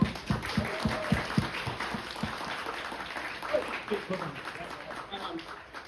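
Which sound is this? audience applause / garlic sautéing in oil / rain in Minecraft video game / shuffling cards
audience applause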